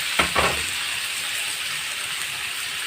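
Chopped tomatoes and peppers sizzle in a hot pan, with two quick scraping stirs near the start followed by a steady, even frying hiss.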